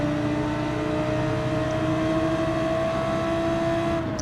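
A race car in the Gran Turismo video game holds a steady high engine whine at speed, its pitch easing slightly as it brakes for a corner, with no talking.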